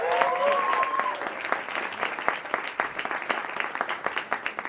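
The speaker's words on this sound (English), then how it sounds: "Please, a big round of applause to Elizabeth Gex on the violin" A festival audience in Barcelona applauds a violinist: steady, dense clapping that starts loud and stays full, with a few whistles or cheers near the start, then slowly thins and flutters toward the end.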